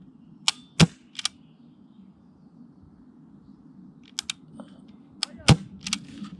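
A Novritsch SSX303 airsoft rifle fires BBs outdoors at a range: a few sharp, isolated cracks spaced seconds apart, each with light mechanical clicks around it, over a low background hum.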